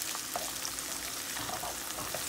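Small shrimp frying in a pan, a low steady crackling sizzle with faint spatula scrapes now and then, quiet and close, nobody speaking.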